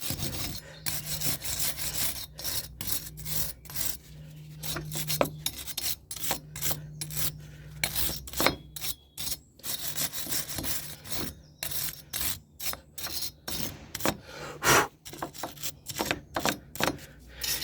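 Scrubbing and rasping on a Ford Puma Mk1 front brake hub and steering knuckle, a steady close scratchy brushing broken by short pauses, running throughout with no talk.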